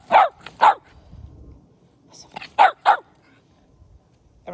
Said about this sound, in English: she is a very jealous dog